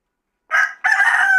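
A Fayoumi rooster gives one loud, close crow, with a short opening note, a brief gap, then a long sustained call. No other sound is heard.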